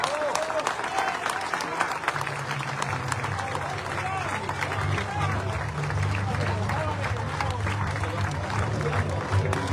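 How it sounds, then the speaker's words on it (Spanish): Sustained applause from a crowd, dense steady clapping with a murmur of voices underneath, loud and close throughout. "Después de esos aplausos"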